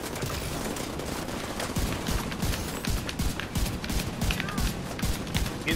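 Rapid automatic turret gunfire in Tom Clancy's The Division 2, a dense continuous stream of shots and impacts over steady game noise, loud and close, with no clear speech.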